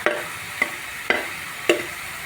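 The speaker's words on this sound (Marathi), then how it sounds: "हे सगळं आपण मिक्स करणार आहोत" Spoon stirring spices (Agri Koli masala, turmeric) into hot oil in a pan over high gas, with four sharp scraping strokes spaced evenly over a steady sizzle.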